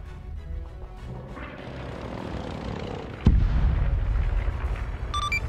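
A single heavy bomb blast booms partway through in a military video game featuring German armor and planes, cutting in sharply over a low, droning aircraft engine and leaving a rumbling tail.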